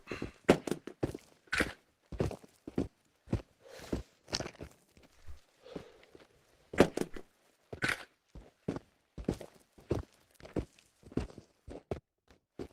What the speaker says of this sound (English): I keep hearing my own footsteps freaking me out.